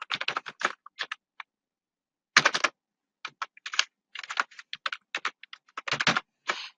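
Keys clatter on a computer keyboard in quick bursts of typing, separated by brief silent pauses, close and crisp.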